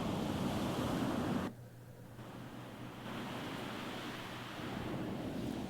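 Relaxing beach ambience of rolling ocean waves, a steady broad wash of surf that drops abruptly quieter partway through before the waves build back to a continuous, moderately loud rush with no talking.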